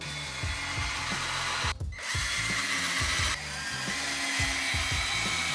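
A power drill drives 2.5-inch screws into wood while a manual machine is built into a bike repair stand, giving close, loud whirring bursts that rise and stop repeatedly over steady background noise, with one short pause.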